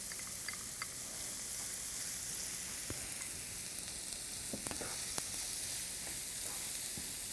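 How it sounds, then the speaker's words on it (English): Minced onion fries in olive oil in a pan, giving a faint, steady sizzle with scattered small pops and ticks and no talking. "And then we're gonna put our minced onion in the pan."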